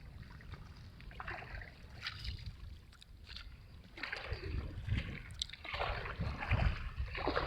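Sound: rowing boat on water

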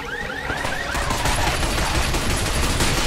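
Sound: gunfire shooting robots' legs in a video game

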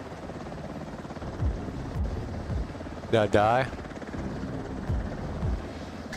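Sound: helicopter in the video game Delta Force Hawk Ops

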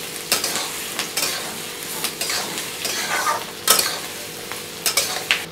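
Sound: stirring and frying onions and masala for chicken bhuna

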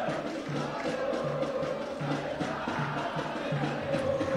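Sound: Unidos do Picerno supporters cheering at football final

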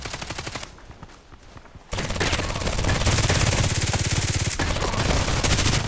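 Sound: Glock pistol gunfire in the video game Contract Wars

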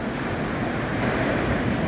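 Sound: rough sea waves at the beach in the morning

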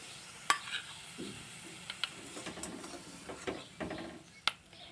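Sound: spice paste being scooped out of a wok

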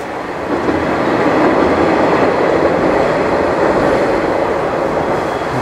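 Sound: train crossing a bridge

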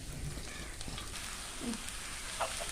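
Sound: fish mixture with spring onions frying in oil

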